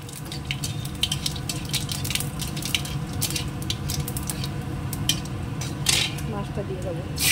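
Cumin seeds dropped into hot oil in a pan while cooking fish curry, giving a steady close sizzle with scattered sharp crackles and the clink of a utensil against the pan, with a voice talking faintly underneath.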